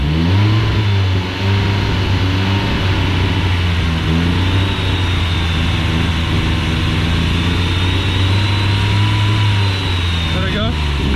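A turbocharged Volkswagen GLI engine held at about 3,000 rpm with the clutch pressed in, a loud, steady revving drone with a strong low hum and a faint high whine, close to the microphone, while people talk over it.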